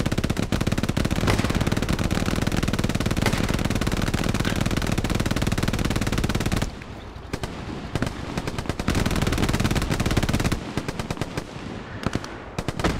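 Sustained, loud automatic machine-gun fire in the World War II shooter Hell Let Loose, battle at Foy, with dense rapid bursts that briefly thin out partway through and then resume.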